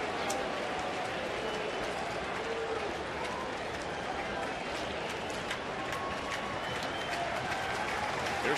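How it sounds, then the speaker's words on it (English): Large baseball stadium crowd during a Colorado at Cincinnati game, roaring and cheering on its feet in a steady, dense wash of noise with scattered claps and shouts, sustained evenly throughout. "The crowd is on its feet."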